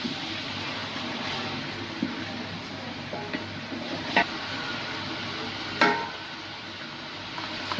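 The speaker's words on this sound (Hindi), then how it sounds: "अब इसमें अदरक लहसुन का पेस्ट डालेंगे और इसे फ्राई करेंगे 5 मिनट तक" Ginger garlic paste fries in a pan for chicken pulao, a steady low sizzle with occasional soft scrapes and taps of stirring, close and fairly quiet throughout.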